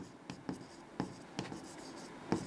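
Handwriting of a set in set-builder notation during a maths lesson: soft, close pen or chalk taps and short scratches in an irregular rhythm, quiet and with no voice.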